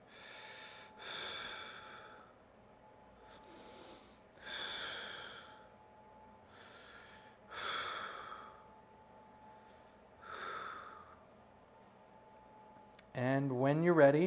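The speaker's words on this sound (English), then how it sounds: "And let's take a few deep breaths." Slow deep breaths taken during a stretching exercise, five long inhale-exhale cycles spaced evenly and quiet, close to the microphone, followed by a brief spoken voice at the end.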